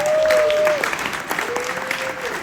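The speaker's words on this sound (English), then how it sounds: "So give yourselves a round of applause." Audience at a dinner show breaks into brief scattered clapping under a speaking voice, the claps light and fairly close rather than a full ovation.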